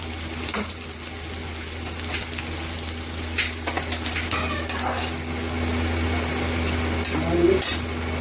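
Onion, garlic and ginger fry in a pan with a steady close hiss of sizzling oil. A few light clinks and scrapes from stirring break in now and then.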